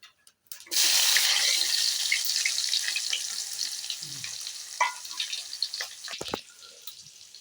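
Chopped onions hit hot oil in a pot and burst into a loud, sustained sizzle that stays close and steady, slowly easing, with a few small clinks and stirring sounds near the end.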